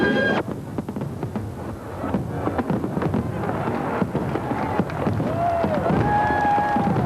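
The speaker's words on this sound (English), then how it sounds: "a fireworks display which, no matter what you think of Mickey Mouse, is impressive in anybody's language" A fireworks display at EuroDisney near Paris on opening night: a rapid series of booming bursts and crackles, with whistling rockets rising and falling in pitch, loud and continuous with a thunder-like roll.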